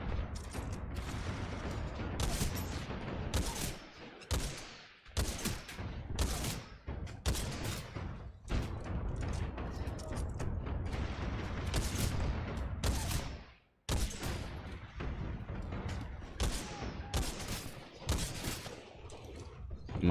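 Rifle gunfire in the video game Titanfall 2: rapid bursts of shots with short pauses between them, loud and close, with mechanical clicks and booms mixed in over a busy background.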